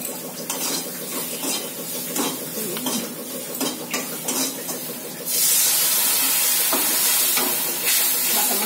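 Spice paste sizzling in hot oil in a pan, with steady hissing and clinks of a stirring utensil against metal, and a louder, continuous sizzle surge partway through.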